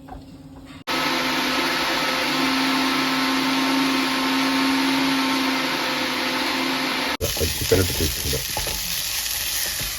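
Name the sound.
mixer grinder grinding pepper and coriander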